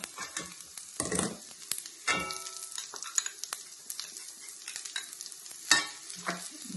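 Browned onions frying in oil in a pan as chili powder goes in, for Kerala-style beef varattiyathu, with intermittent stirring scrapes and clatters over a light sizzle, no voices.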